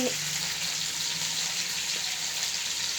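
Salted, washed radish leaves sauté in hot oil, giving a steady, close sizzle and crackle that runs without a break through the whole short stretch, with no voices over it.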